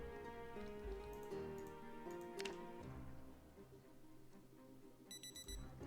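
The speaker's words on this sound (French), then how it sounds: "L'alarme, je l'avais pas enlevée." In the survival video game Project Zomboid, an in-game alarm clock rings in rapid repeating bursts, with ticking, thuds and short bright chimes in the background, and nobody speaks.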